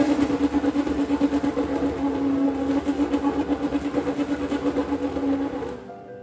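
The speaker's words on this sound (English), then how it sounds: "We need to rev the engine to make sure to bring all the oil to the bell housing." A race car engine held at steady high revs in the team garage during a gearbox oil level check, a loud continuous drone with a rhythmic pulsing that cuts off abruptly at the end.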